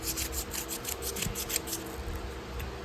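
Sandpaper rubs back and forth on a small part from a 1980 Case 6318 during restoration, making quiet, evenly repeated scratchy strokes close up.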